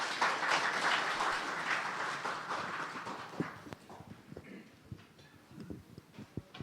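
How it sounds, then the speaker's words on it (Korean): An audience applauds a traditional Korean gugak vocalist from a temple's gugak ensemble. Dense clapping fills the first few seconds, then thins into scattered individual claps that fade out. "다시 한번 박수 보내주십시오"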